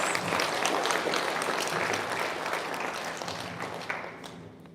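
A ceremony audience applauds a promoted Guam police officer, with steady, full clapping from many hands that gradually softens toward the end, no voices over it.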